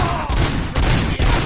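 Loud bursts of gunfire from the Robocop Rogue City video game, several rapid volleys crashing in quick succession over about a second and a half, close and dense with no talk.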